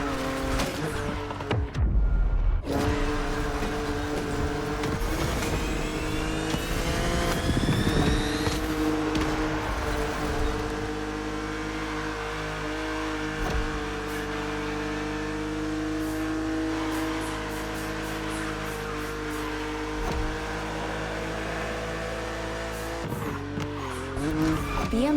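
A BMW Z roadster races an opponent in The Crew Motorfest video game, its engine droning and revving steadily with tire squeals and skids, loud and continuous for the whole stretch.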